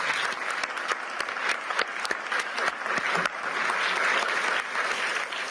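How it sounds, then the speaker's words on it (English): Audience applause after a panel discussion in Davos, a mix of sharp individual claps over a steady wash of clapping that holds to the end. "So please join me in clapping for them."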